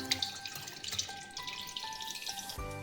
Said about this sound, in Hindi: अब हम चिकन का सारा पानी ड्रेन कर लेंगे